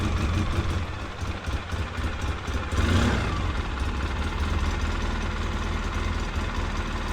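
A Polaris Sportsman 700 ATV idles after a cold start following two weeks of sitting, its engine running as a steady, continuous near rumble with a slight knocking texture and no talk over it.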